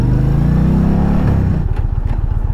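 A 2020 Indian Challenger Dark Horse motorcycle rumbles loudly up close with a deep engine drone, then settles into a steady pulsing idle-like throb with no voices.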